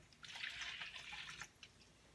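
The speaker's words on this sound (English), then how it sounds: "taking my bowl, putting 1 cup of warm water" Warm water is poured into a bowl in a short, faint splashing trickle lasting about a second.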